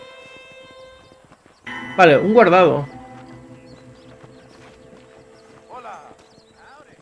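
A horse in the Red Dead Redemption video game gives a loud, close, wavering neigh lasting about a second, followed by a softer whinny, over a steady game-music drone; someone speaks briefly.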